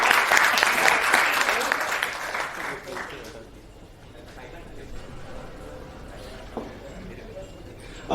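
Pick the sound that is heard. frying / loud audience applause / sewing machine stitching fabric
loud audience applause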